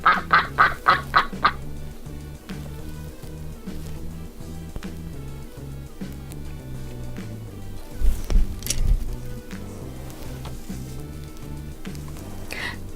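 A duck's quack imitated by a voice in a children's cartoon song: five quick, evenly spaced quacks at the start, then upbeat background music with a thumping beat.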